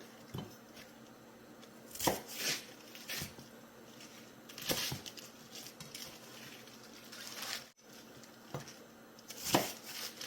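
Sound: cutting napa cabbage with knife

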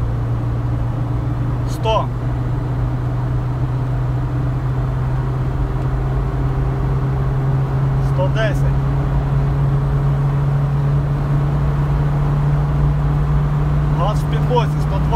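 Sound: car accelerating at full throttle after fuel pump install

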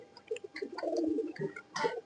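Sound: pigeon cooing

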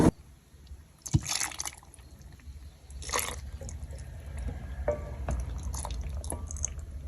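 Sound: hot loquat syrup being poured into a bottle

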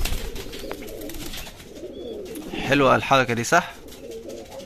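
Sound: pigeons cooing

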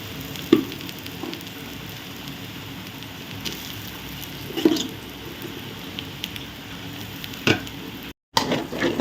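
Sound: frying and mixing rice for egg masala rice

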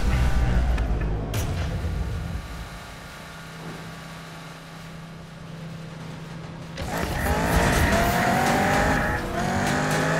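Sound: race cars in Need for Speed 2015 video game

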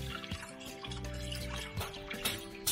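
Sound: rinsing chicken livers under cold running water

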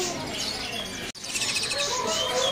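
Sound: canaries chirping

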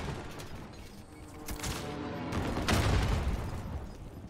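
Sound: gunfire in the video game Warzone

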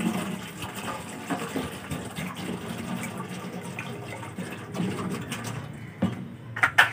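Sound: water poured from a bottle into a tin can

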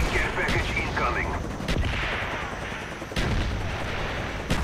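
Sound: mortar strike explosions in the video game Black Ops 6

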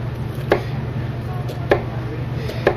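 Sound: knife chopping onions in the kitchen

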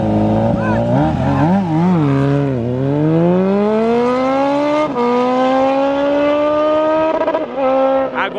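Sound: motorcycles accelerating in drag race

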